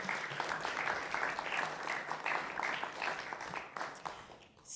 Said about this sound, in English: So one more round of applause for our sponsors,